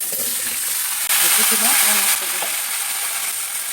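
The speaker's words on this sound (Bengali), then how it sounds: "এগুলো দিয়ে সবজিটাকে একটু ভেজে নেব" Radish, eggplant, flat beans and potato fry in hot oil with green chillies, giving a loud, steady sizzle with a brief louder surge as the vegetables are stirred, and a faint voice underneath.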